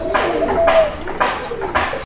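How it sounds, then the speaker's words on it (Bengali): Desi pigeons coo in a repeated rhythm, four soft rolling calls spaced about half a second apart, close by and clear with no talk over them. "দেখেন কবুতর দেখেন।"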